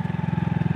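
A motorcycle engine chugs with a fast, even low thump on a rough off-road hill track. It sounds close and loud for a brief moment, with no voices.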